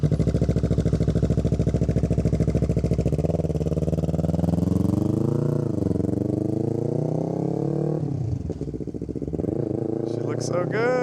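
An R3 track motorcycle pulls away, its engine droning steadily then rising and falling through revs as it rides off, with people talking over it.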